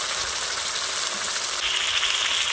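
Ground turmeric, chilli, coriander and cumin sizzle and fry in a hot pan, with a steady, loud, dense crackle that keeps going the whole time and brightens partway through, with no voices over it.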